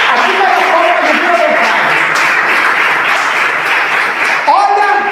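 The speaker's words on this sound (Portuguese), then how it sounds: "Então palmas para Jesus se você entendeu" A church congregation claps for Jesus, a dense, steady wash of applause filling the hall for several seconds while a voice sounds over it near the end.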